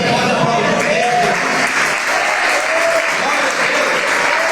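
A church congregation applauds during a sermon, loud and sustained clapping that fills the room. A voice speaks faintly underneath.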